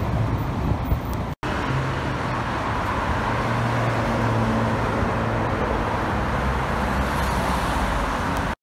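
A group of classic supercars, including a Lamborghini Countach, Ferrari 308 and Ferrari 512 BB, pulling away on a Paris street, a loud, continuous engine rumble with a brief cut early on and steady traffic noise throughout.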